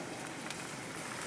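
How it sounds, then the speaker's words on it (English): Sauce for shrimp with mango and coconut simmering in a pan: a steady, soft bubbling and spattering hiss like light rain, continuous and close. "We just simmer that."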